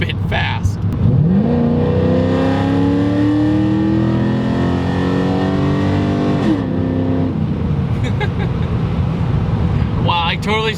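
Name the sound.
Camaro V8 car accelerating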